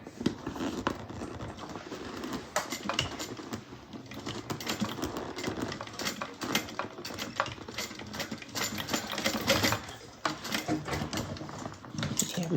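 Sewing machine running steadily over one short stretch of a handmade bag to re-stitch a skipped stitch, a busy continuous whir with small clicks throughout, close and moderately loud with no talk.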